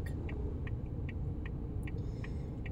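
Steady low rumble inside a car stuck in heavy traffic, with faint regular ticking like a turn signal repeating through the whole stretch, no talking.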